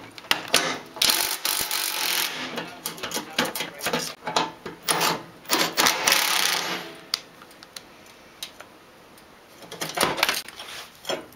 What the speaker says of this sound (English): I have a 13mm socket here.